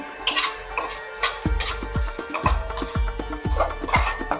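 A utensil scrapes and clinks against a pan while onions with turmeric and asafoetida are stirred and sautéed for a chutney, in rhythmic metallic knocks over a low sizzle.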